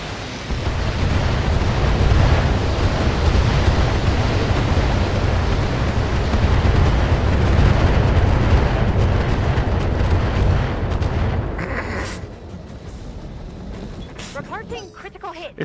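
Missile explosions in a mech combat video game rumble in a dense, continuous barrage of booms and bursts, loud and close, before thinning out near the end.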